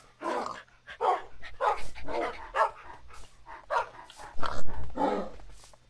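Dogs in the Minecraft Real Pets mod, among them huskies, labradors and a doberman, bark repeatedly: about a dozen sharp, close barks in an uneven rhythm, with a few yips and no talking.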